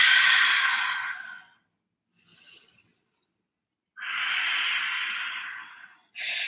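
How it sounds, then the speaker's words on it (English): Deep breathing during a yoga class, with two long, steady exhales around a soft shorter breath and a final breath starting at the end, close and clear with no talking. "Breathing deeply."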